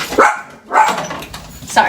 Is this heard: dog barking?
yes